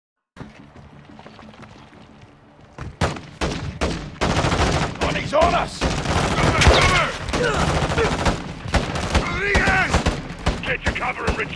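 Gunfire in the video game Call of Duty Modern Warfare 2, starting quietly and then bursting into dense, loud volleys of rapid shots and impacts that continue steadily to the end, with voices talking over the battle.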